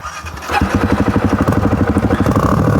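A Kawasaki KLX 110 or Suzuki DRZ400 trail dirt bike engine catches and settles into a loud, steady, throbbing putter close by, its rhythmic pulses continuing without talk.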